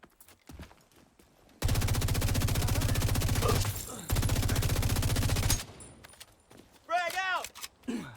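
Sustained automatic gunfire in the video game The Division 2, two long loud bursts of rapid shots separated by a brief pause, followed by quieter game sounds and chirping effects.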